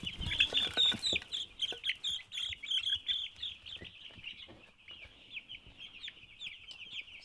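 Laying hens on a farm cluck and chirp continuously at close range, a busy, overlapping chorus of short calls with no talking.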